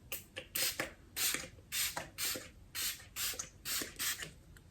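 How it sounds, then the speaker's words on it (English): Wet n Wild Photo Focus Natural Finish setting spray misted from a pump bottle onto a face, about ten short hissing bursts in quick succession, close and clear with brief pauses between pumps. "I just use setting spray to like refresh my face after"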